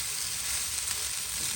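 Egg fried rice with bell pepper and onions sizzles steadily in a pan as it is stirred, a close, continuous frying hiss with no talk.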